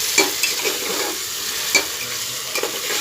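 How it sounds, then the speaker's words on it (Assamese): Masala for a pressure cooker biryani fries in hot oil with a bright sizzle, while a spoon scrapes and taps against the pan in a few sharp strokes. The sounds are close and there is no talk. "এইখিনি ভালদৰে ভাজি ল'ম মই"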